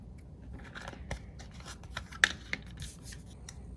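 Scissors snipping off the extra end of paper during a recipe memory box papercraft project, a run of soft, close cutting strokes with a couple of sharper snips, alone against a quiet background.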